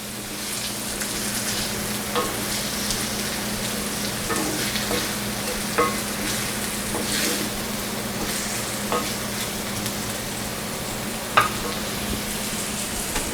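Vegetables for cranberry turkey burger stuffing sauteing in a pan, a steady soft sizzle with a low hum underneath and occasional light spoon taps and scrapes.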